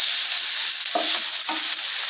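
Garlic and a small piece of tamarind fry in a pan, a bright continuous sizzle with two quick stirring scrapes in the middle, close and fairly loud.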